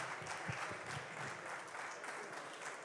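Audience applause for the first-prize winner at the finale of a regional Ligurian artists' competition, a steady dense clapping that fills the room and carries on through the whole stretch.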